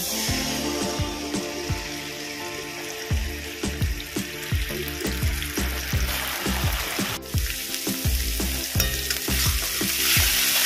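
Poppy seed, radhuni and ginger paste fry in hot oil for chanar borar shukto, giving a steady close sizzle broken by a quick run of sharp spatula knocks and scrapes against the pan.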